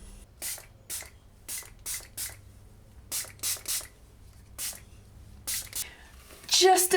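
K18 AstroLift volume spray misting onto fine wavy hair in a series of short, close hissing bursts, about a dozen in uneven rhythm, followed by brief rustling at the end.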